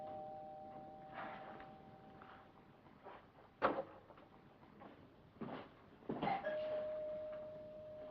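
Door chimes ring with a few separate tonal dings spaced over several seconds in an apartment in 1960s New York, with bumps and knocks in between, fairly quiet and slightly distant.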